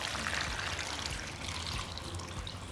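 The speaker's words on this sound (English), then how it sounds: "Cover them with water." Water is poured steadily over strawberries in a glass bowl, making a continuous, close splashing and trickling stream for about three seconds with no talking.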